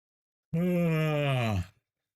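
A single long yawn from a tired streamer, one continuous voiced groan that rises and slowly falls over about a second, close and clear with no other talk.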